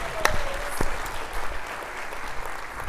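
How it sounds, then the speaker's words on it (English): Audience clapping at a school division convocation, a steady, moderately soft patter of many hands filling the room for the full stretch, with a few sharper claps standing out near the start. "Let's clap it up for Kim one more time."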